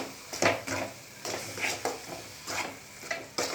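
A ladle scrapes and stirs Bihari-style fish masala in a pan, making repeated rhythmic metallic strokes about twice a second over a faint background sizzle.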